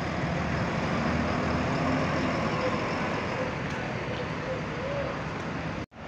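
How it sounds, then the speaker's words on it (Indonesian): Economy buses departing from Purabaya bus terminal, a steady low engine rumble and traffic drone filling the clip, close and continuous, cutting out abruptly near the end. "3 bus berlangsung berangkat ekonomi Jaya Utama Indo"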